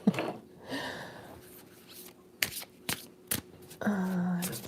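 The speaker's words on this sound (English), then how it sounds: "Going to start shuffling up my cards." Tarot cards are shuffled quietly at close range, with soft riffling bursts and a few sharp taps and clicks between quieter pauses.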